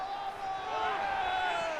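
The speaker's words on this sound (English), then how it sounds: "The crowd expresses their excitement as the captain puts in his 3rd of the season" A football crowd roars for a goal scored by the team captain, his third of the season, in a Bayern Munich against Arsenal match. A broad, steady wash of cheering fills the stadium while a commentator talks over it.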